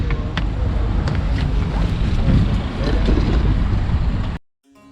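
A small boat rides on the water in Istanbul with wind buffeting the microphone: a loud, continuous rumbling roar that cuts off abruptly near the end.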